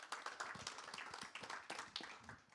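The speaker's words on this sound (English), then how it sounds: "A round of applause, please." A workshop audience applauding after a thermoelectrics talk: brief, faint, sparse clapping from a small group, with individual claps audible over about two seconds.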